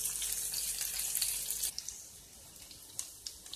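Rotan fish cutlets sizzle in a frying pan with a steady, close, crackling hiss, louder for the first moments before settling into a softer fry, with no talking.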